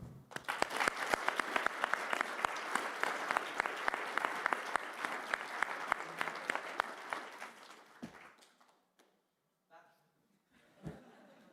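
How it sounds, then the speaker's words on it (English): A conference audience at a statistics conference breaks into loud, sustained applause closing a panel session, dense clapping for about eight seconds before fading out, followed by near silence and a few scattered sounds. "close the session with a big applause"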